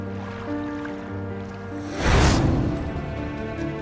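Water from a pool rushes out in a surge once a valve is opened, swelling into a loud gushing wash over a steady background hum.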